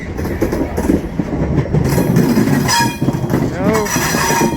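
A freight train rumbles steadily past with clattering wheels, a metallic squeal rising near the end, and faint voices in the background.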